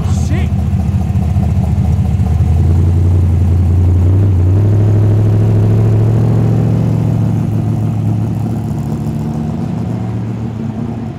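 Modified cars idle on a street in Liverpool, Sydney: a loud, close, deep throbbing engine rumble that swells and grows richer midway, then settles, with people talking in the background.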